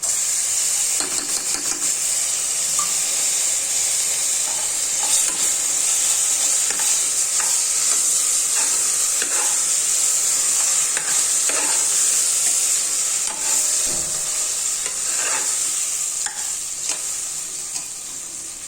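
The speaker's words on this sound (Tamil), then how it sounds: "இந்த எண்ணெயில் வதக்கினாலே போதும்" Ginger garlic paste sautéing in hot oil while being stirred for a jeera samba chicken biryani, a continuous bright sizzle and hiss with scraping spoon strokes scattered through it. No one speaks.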